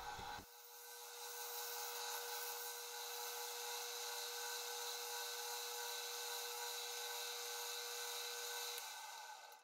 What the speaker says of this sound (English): I'm just cleaning it up with the scraper and getting it nice and flat